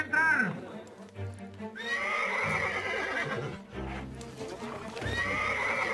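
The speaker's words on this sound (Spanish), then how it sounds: "todavía no se acomodan los caballos para entrar" Horses at rodeo starting gates, with repeated loud neighs and whinnies over shuffling hoof clops, while people talk in the background.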